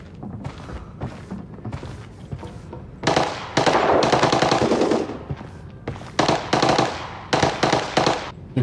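Gunfire in the Arena Breakout video game rattles out in loud automatic bursts, some short and some sustained, separated by quieter gaps with faint thuds.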